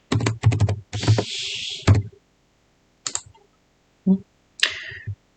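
Typing on a computer keyboard while writing in a Padlet sandbox board: a quick flurry of close, crisp key clicks, then a few isolated taps after a pause.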